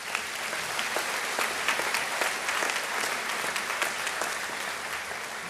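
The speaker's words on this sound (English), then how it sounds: "That deserves a round of applause." A crowd at the 2021 Libertyville High School graduation ceremony applauds in a sustained, full round of clapping, with sharp individual claps standing out from the dense, steady wash throughout.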